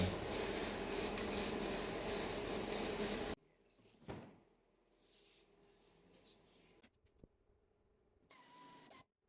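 Spray painting truck parts for a 1979 square body truck build, a steady loud hiss of the spray gun coating the backside of the pieces, then stopping, followed by quieter handling sounds and a short final burst.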